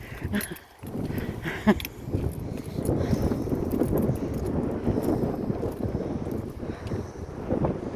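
Steady wind buffeting the microphone outdoors at the Pontcysyllte Aqueduct near Llangollen, Wales, a continuous low rumbling roar with gusty swells throughout.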